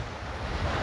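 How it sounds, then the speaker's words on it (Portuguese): Sea waves break on the beach at Praia da Comporta, a loud, close, steady wash of surf with wind buffeting the microphone. "Barulhão do mar."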